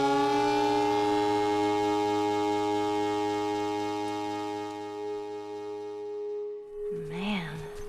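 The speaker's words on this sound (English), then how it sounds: "The military still has technology. There's sirens and alarms" A long, steady wailing siren tone with rich harmonics from the video game The Last of Us slowly fades, then a short rising-and-falling alarm whoop cuts in near the end.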